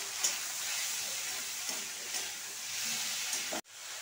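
Tomatoes and peas with turmeric and salt fry in a pan, giving a soft steady sizzling hiss with faint stirring, close and quiet, cut off abruptly near the end.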